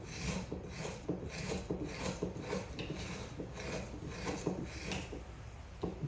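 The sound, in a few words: spoon scraping frozen peach sorbet in a Ninja Creami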